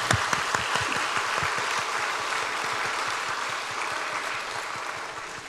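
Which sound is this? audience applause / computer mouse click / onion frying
audience applause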